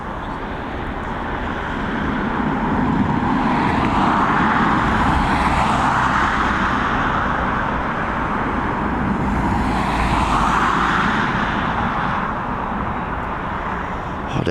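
Aer Lingus A320 jet, flight EI493 from Faro, arriving at Dublin Airport on a fine afternoon: a steady, loud broadband engine roar that swells and recedes with a slight sweeping tone as it passes, no talk.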